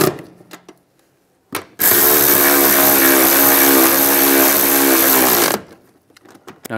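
Power tool on a 2007-2013 Chevy Silverado seat mount runs one sustained, loud whirring burst of about four seconds while tightening seat nuts, framed by brief clicks and handling noises before and after.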